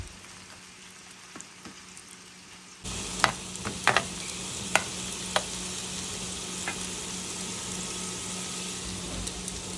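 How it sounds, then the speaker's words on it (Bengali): Paste stir-fried with capsicum in a pan for a doner made with frozen kebabs, a low hiss that jumps into a loud steady sizzle, with several sharp scrapes and clinks from stirring and no talking. "শুধু এই পেস্টটা ক্যাপসিকাম দিয়ে নাড়াচাড়া করে দিয়ে দেবো ডোনারটা।"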